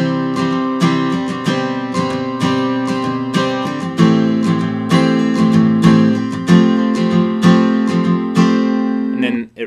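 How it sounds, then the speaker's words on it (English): Acoustic guitar plays a steady picked pattern with a bass line walking down the low sixth string beneath ringing chords, close and solo throughout. "what I hear is a walk down going on the 6th string."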